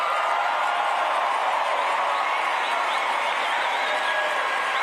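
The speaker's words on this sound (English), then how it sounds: "There are some people clapping, there's some people that weren't" Audience clapping at a Turning Point USA event, a dense continuous roar of many hands with crowd murmur mixed in, heard as if played back from a recording, steady and full throughout.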